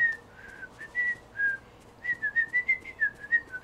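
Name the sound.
character whistling while working in video game Disney Dreamlight Valley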